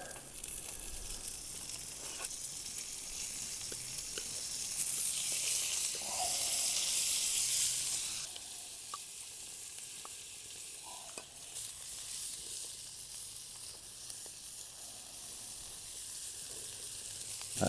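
Small prawns frying in garlic butter in a pan, a steady close sizzle with stirring and scraping, louder for a few seconds midway, then settling to a quieter continuous hiss; no talk.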